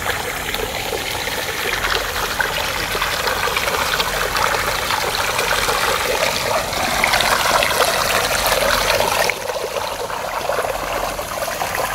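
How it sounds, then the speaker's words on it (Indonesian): Fast, heavy river current rushing and trickling steadily up close, a broad continuous wash of water without a break, in a river where people bathe during a long holiday. "tapi airnya itu deras banget"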